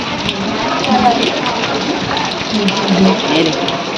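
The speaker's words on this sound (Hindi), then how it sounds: "हवा के साथ बारिश हो रही है।" Steady heavy rain pouring down close by, with a gusty rushing texture and water splashing; faint voices underneath.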